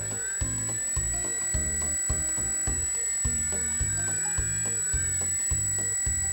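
Small electric motor of a ZhiChong Z53 Cessna EPP foam RC airplane whining steadily at partial throttle, a high, even buzz close by with faint rhythmic ticking beneath.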